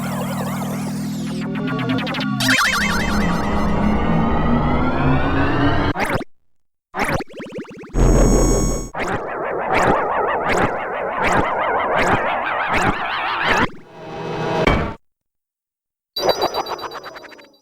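Tonberry King summon effect from Final Fantasy VIII: a string of bright chiming, boinging and plopping game tones with tonal swells and sharp pops, broken by short silences, loud and alone with no talk.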